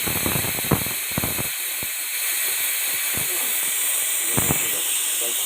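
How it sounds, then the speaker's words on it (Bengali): A pressure cooker boiling peas lets out a steady hiss of steam throughout, with several short sharp bursts and clicks rising over the continuous high hiss. "মটরটা এখন হচ্ছে প্রেসার কুকারে দিয়ে সিদ্ধটা করে সিটি দিয়ে নেব"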